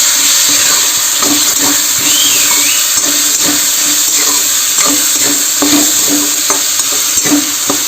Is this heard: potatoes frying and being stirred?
yes